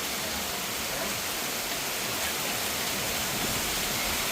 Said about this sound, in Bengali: এত বৃষ্টি দেখেন সকাল থেকে বৃষ্টি